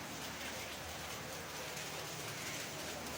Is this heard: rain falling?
yes